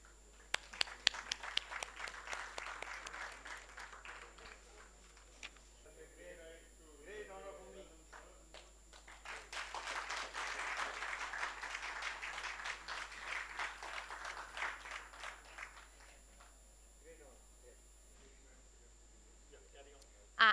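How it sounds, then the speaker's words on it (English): An audience at an awards ceremony applauds the honorees. The clapping is distant and modest, comes in two swells that fade out, and has a voice talking over part of it. "A round of applause for him, please."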